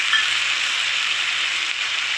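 A spice paste of ginger, cumin, turmeric and chili loosened in water sizzles in a hot pan, giving a dense, even, loud hiss that holds steady with no voices.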